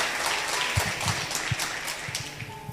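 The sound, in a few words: audience applause in church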